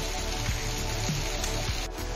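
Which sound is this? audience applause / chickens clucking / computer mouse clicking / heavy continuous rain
heavy continuous rain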